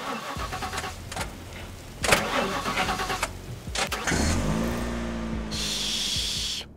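A car engine starting in the zombie roguelite game The Last Stand: cranking bursts, then the motor catches and settles into a steady idle with rising harmonic tones, sitting over background game music, close and fairly loud.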